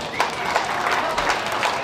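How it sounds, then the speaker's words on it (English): A county fair crowd applauds and cheers for a livestock show class, a brief wash of clapping and voices in a large space, with an announcer's voice over it. "Let's cheer for them."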